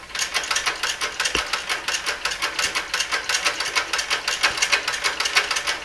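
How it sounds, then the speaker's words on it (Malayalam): A sewing machine stitches cloth along a curved edge during a basic stitching lesson, giving a loud, fast, steady mechanical rattle of needle strokes that runs the whole time with no talk. "എന്നിട്ട് മെല്ലെ തുണി ഇങ്ങനെ ചരിച്ച് വെച്ചൊക്കെ തയ്ക്കുക."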